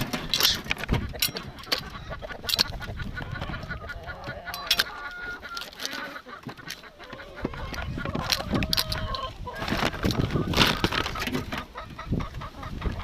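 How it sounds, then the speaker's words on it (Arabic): A flock of laying hens clucking and calling as they feed on pumpkin outdoors, steady busy fowl chatter with sharp clinks and rustles mixed in, fairly close, with little talk. "راه الدجاج مشاو كلهم كياكلوا لنا القرعه"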